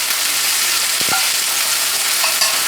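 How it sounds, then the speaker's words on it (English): Beef tenderloin frying in a grill pan with bacon grease gives a steady, close sizzle, with a couple of brief clanks partway through and no talking. "And now I'm going to put it in the grill pan so it can grill over here."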